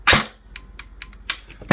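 An ICS M16 DMR airsoft rifle fires on semi-auto, one sharp loud pop at the start and another near the end, with fainter mechanical clicks and clacks between the shots.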